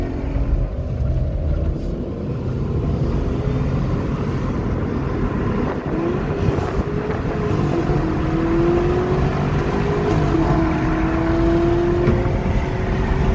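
A 2019 Ford Mustang 5.0 and a Camaro SS LT1 race side by side, engines roaring loudly and steadily with rising whine as they accelerate, heard close with no talking.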